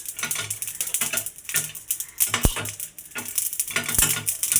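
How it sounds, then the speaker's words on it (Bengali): Spice masala for chicken biryani fries on a low flame while being stirred, giving a steady close sizzle broken by repeated spoon scrapes and a couple of sharp taps on the pan. "তো সেজন্য একদম হালকা লো ফ্লেমে করে মশলাটা ভাজতে হবে।"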